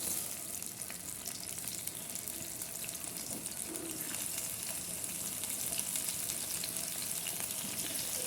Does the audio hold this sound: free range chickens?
no